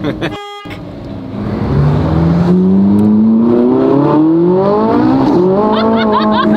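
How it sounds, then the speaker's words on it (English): A dual-clutch supercar launches hard and spins its tires, the engine note climbing steadily through the gears in a loud, rising roar, with a brief horn-like tone at the very start and occasional voices inside the cabin. "Oh, that just spun tires. And it's quick and it pulls."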